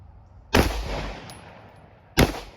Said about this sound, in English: I'm going to put a bullet in the side of each one and see if either one will operate afterwards.